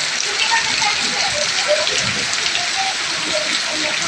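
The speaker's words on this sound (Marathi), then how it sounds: "खूप जोराचा पाऊस आहे मित्रांनो" The season's first heavy rain pours steadily on a farm, a dense continuous hiss with a faint voice beneath.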